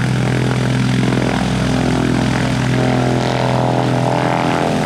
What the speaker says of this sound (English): It's the most planes we've had here in over 6 months.